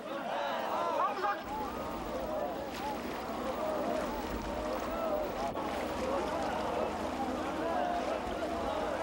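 Marine training boats move across open water, a continuous rushing wash with wind noise underneath, while many voices shout and chant together throughout.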